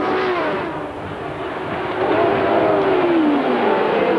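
Formula 1 race car engines from the 1982 US East Grand Prix, a steady high-pitched whine of cars passing, loud and continuous with a rising sweep near the end, like one car overtaking another.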